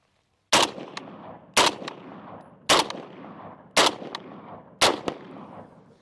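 FAL rifle fired five times at roughly one-second intervals, each loud, sharp report followed by a quick echo and a fading outdoor rumble, with no talk.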